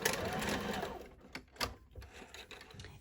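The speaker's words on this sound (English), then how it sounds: "And I backstitch on the end." A sewing machine backstitches the end of a tote bag lining seam, its quick mechanical stitching close and fairly quiet, with short bursts and pauses as the fabric runs back and forth.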